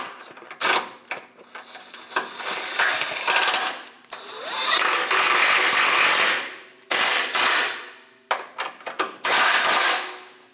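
Ratchet snugging two bolts on the plastic pitman arm shield of a Chevrolet Express 2500 van, loud close bursts of rapid clicking separated by short pauses.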